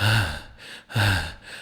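A voice imitates tired, heavy breathing after running laps: two long, loud, breathy exhalations, close up, with a short pause between them.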